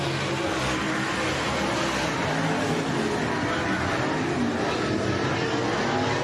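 Race cars in a heat race at Heart of Texas Speedway roar around the track, a steady, loud blend of engines continuing throughout with no clear pauses.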